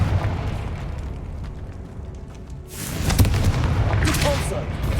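A Confringo blast goes off in the Hogwarts Legacy video game, a burst of booming, crackling noise that swells over the game's background din and lingers for a couple of seconds, with a voice nearby.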